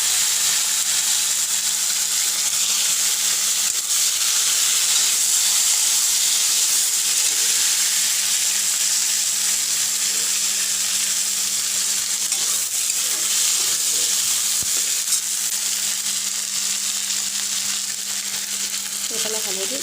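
Garlic and green chilli, then tomatoes, sizzle in hot oil in a pan, a dense, steady frying hiss that stays loud and constant from start to finish.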